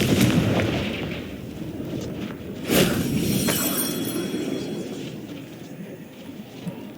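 The Confringo blasting spell in Hogwarts Legacy: a sharp explosive burst near the middle, then rumbling debris and a few smaller pops over a low ambient bed.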